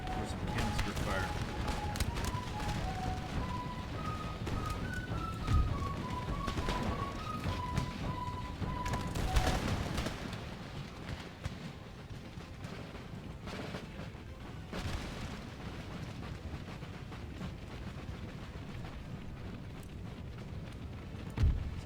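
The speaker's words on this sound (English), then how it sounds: "There's some canister fire." Canister fire booms out in the Empire Total War strategy game during a battle in Cuba, with repeated cannon-like thumps and blasts over a background of in-game music and battle noise.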